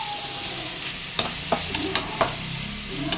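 Onions and curry leaves sauté in a pan, a soft sizzle running underneath while a spoon scrapes the bottom in several short, distinct strokes.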